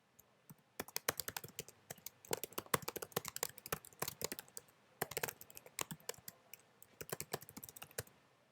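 Rapid, irregular clicking of fingers typing on a computer keyboard, in bursts with short pauses, close and fairly quiet, with no talk.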